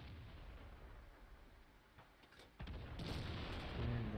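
A T110E5 tank's main gun fires at a lightly armored enemy tank in World of Tanks: one sudden loud blast bursts out after a quieter stretch, then a heavier rumble carries on through the end.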